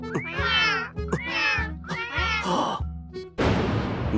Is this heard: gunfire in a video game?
no